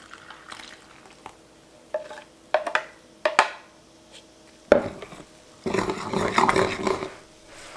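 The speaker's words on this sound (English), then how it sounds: "Let's mix everything together." Baguette dough being mixed by hand with freshly milled flour and foamy yeast, with scattered wet clicks and knocks against a bowl, building into a denser, continuous squelching stir near the end.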